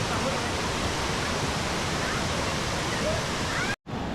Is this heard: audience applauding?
no